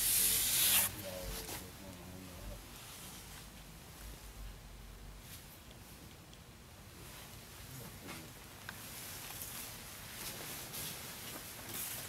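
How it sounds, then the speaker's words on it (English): Motorcycle paint pieces being hand-sanded smooth before more primer, a steady close scraping and rubbing that runs on and off for several seconds after a brief louder burst at the start. "sand these pieces down get everything smooth"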